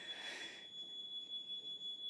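A steady high-pitched smoke or fire alarm tone beeps continuously at a public meeting, moderately faint with a brief burst of broadband noise at the start.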